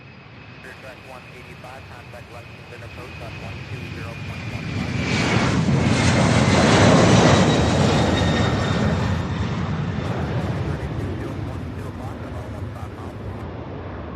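A Boeing 747 airliner at Louisville SDF airport, its engine roar swelling to a broad rumble mid-clip and then easing off while holding steady, with other voices in the background.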